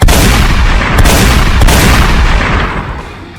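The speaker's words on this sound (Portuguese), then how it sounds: "larga o tiro para cima dele" Loud, dense gunfire bursts with sharp cracks near the start, around one second and just past one and a half seconds, over a heavy rumbling boom that fades.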